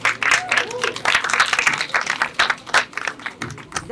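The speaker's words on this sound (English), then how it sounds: "Everyone give them one more round of applause" Applause from an audience at a Black History Month arts celebration, a steady patter of many hands with some voices mixed in.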